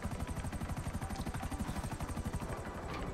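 Helicopter in GTA 5 Online flying close, a loud, steady rapid rotor chop thumping evenly throughout with no break.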